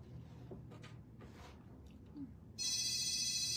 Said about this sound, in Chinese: 那时候有电话耶